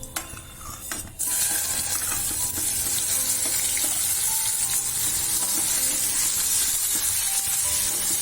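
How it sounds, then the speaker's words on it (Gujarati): Stuffed okra sizzles loudly in hot oil tempered with mustard seeds, cumin and asafoetida, a steady dense crackle with scraping stirs throughout, starting after a brief quieter moment and running alone without voices. "અને ભીંડાને વઘારી લેશું।"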